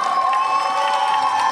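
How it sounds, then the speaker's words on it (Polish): Large outdoor crowd cheering and clapping at a concert in a park in Rzeszów, a loud sustained roar with shouts and whoops, children's voices among them. "Dajcie brawa dla Moniki."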